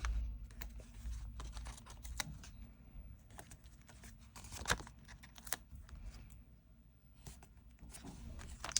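Stickers being peeled and pressed onto a paper savings challenge sheet, soft irregular ticks and rustles, close and quiet, without speech.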